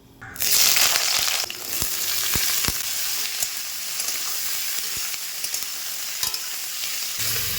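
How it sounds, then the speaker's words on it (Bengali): Cut cauliflower and potato pieces dropped into hot oil in a wok, bursting into a loud, continuous sizzle with sharp knocks of stirring and scraping, close and alone. "তেল খুব ভালোভাবে গরম হয়ে গেছে, এবারে কেটে রাখা ফুলকপি আর আলু দিয়ে দেব"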